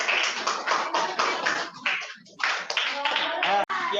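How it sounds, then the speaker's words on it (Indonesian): A classroom group claps steadily for several seconds, a dense patter of hands with a brief dip in the middle before resuming. "Oke, tepuk tangan untuk setiap kelompok yang sudah maju."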